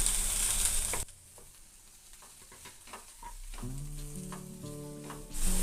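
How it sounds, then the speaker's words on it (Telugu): Sliced beans and vegetables stirred in a hot pan, a bright sizzle that dips, then resumes with clattering spatula strokes and scraping, close and loud. "బీన్స్ వేసుకొని కలుపుకోవాలి."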